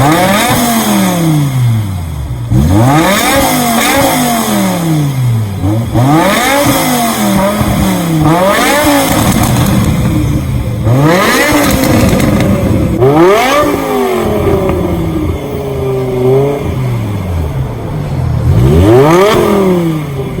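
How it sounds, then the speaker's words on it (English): A car's V10 engine revving hard in repeated sweeps, each climbing sharply in pitch and then dropping back, loud and close over about twenty seconds with brief idle dips between blips. "The V10 engine, we're gonna start it. So you can listen to the sound when it starts."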